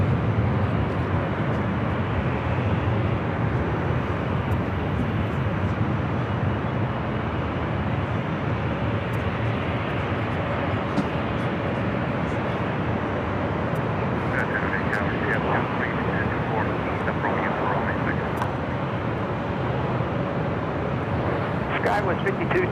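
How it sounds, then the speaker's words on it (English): A Southwest Airlines Boeing 737 MAX 8 taking off, a broad continuous engine roar holding steady through the whole stretch, with a faint radio voice breaking in partway. "This takeoff is Southwest Airlines 3043 taking off to Houston Hobby on the MAX 8"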